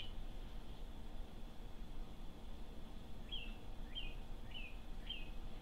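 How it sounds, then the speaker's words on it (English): A small bird gives four short, faint chirps in a quiet room, evenly spaced over a soft background hiss. "a bird was chirping"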